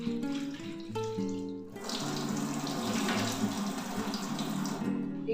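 Tap water runs into a bowl of rice flour, cashews and raisins set to soak, a close, steady splashing gush that starts after a brief clatter and continues to the end.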